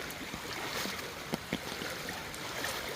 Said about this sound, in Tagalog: Yan yung agos ng tubig.